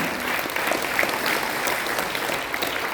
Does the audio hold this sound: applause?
yes